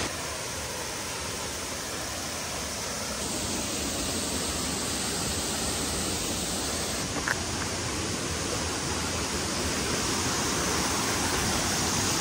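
Steady, broadband rushing water roars continuously from Jami waterfall in Tompobulu, Indonesia, heard from close by, with no voices and only a faint click partway through.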